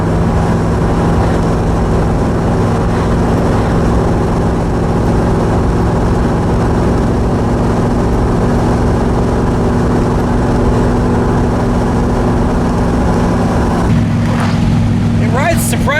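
In-cab drone of a 1979 Firebird Trans-Am convertible on a road test, a steady loud engine and road rumble holding one gear before dropping to a lower pitch near the end as it shifts, with brief talk at the close.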